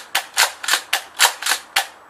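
A Tokyo Marui M870 Tactical airsoft pump-action shotgun produces seven sharp, evenly spaced clacks in quick succession, close and crisp with nothing else heard.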